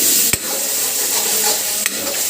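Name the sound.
stirring and frying masala for matar paneer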